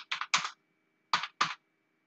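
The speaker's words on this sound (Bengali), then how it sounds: "আমরা এখানে লিখে দিচ্ছি কি ব্যাংক চার্জেস।" Computer keyboard typing in accounting software, a few quick key presses in two short bursts separated by a pause, close and clear with no talking.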